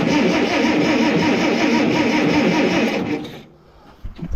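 An Allis-Chalmers D19 tractor engine cranks steadily with a loud, continuous mechanical churn for about three seconds, then cuts off, leaving quiet with a brief clunk at the end.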